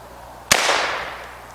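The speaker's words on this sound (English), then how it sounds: "we're gonna go ahead and shoot this pumpkin" A single loud, close shotgun blast fires a homemade candy-filled shell at a pumpkin outdoors, with a sharp crack followed by a long fading echo.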